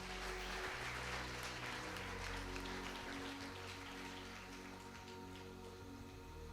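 A large congregation at a religious gathering claps hands in a dense, continuous wash of applause that holds steady from start to finish, fairly distant and without clear voices.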